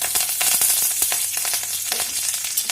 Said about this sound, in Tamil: கடுகும் கடலைப்பருப்பும் போட்டுக்கலாம். ஸோ பாருங்கள், நல்லா பொரிஞ்சு வருது.